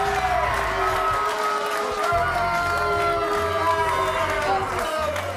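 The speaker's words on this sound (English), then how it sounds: "Keep the applause going." Studio audience at a rugby league football show applauding and cheering, a steady dense crowd roar holding at the same loud level throughout.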